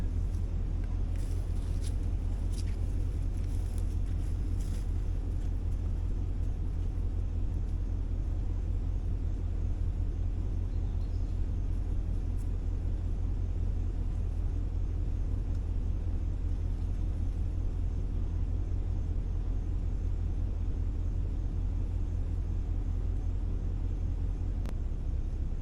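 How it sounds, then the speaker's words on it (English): A truck engine left idling in a remote, eerie spot in South America, giving a steady, unbroken low rumble that continues for the whole stretch with no voices. "I'm gonna leave the truck running because this area feels really creepy"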